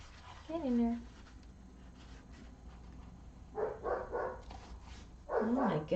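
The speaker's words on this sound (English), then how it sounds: "Oh my goodness, dogs." Dogs bark indoors, a short yelp early on, then a burst of several barks midway and another cluster at the end, with a person talking in between.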